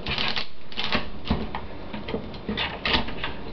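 A big butcher knife chopping through live crab being cleaned, a series of sharp crunching cracks and knocks at an uneven pace, close and clear with no talking.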